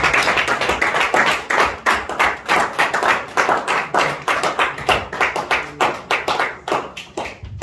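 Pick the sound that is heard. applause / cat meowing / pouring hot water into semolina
applause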